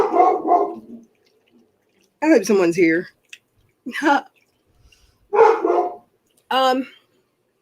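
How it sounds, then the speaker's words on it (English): A dog barks in a few short bursts spread across the moment, moderately close, with a person speaking in between the barks in a quiet indoor room. "I don't know what he's barking at."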